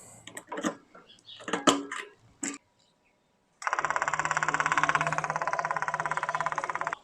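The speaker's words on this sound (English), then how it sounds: "I'm just going to use a low PSI fuel pump that I got out of the Celica to siphon out the fuel" A low-pressure fuel pump taken from a Celica draws fuel out of a Kawasaki ZZR250 motorcycle tank. A few clanks and clicks come first, then a pause, then a steady, rapidly pulsing electric whir that keeps running, close and moderately loud.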